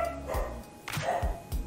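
Dog barking several times in close succession, moderately loud and near, with a room-like echo and no talk over it.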